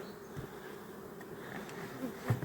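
Honey bees buzz inside a hive fitted with an electric heating panel, a soft, steady droning hum of many insects close by, with a few brief louder passes of individual bees.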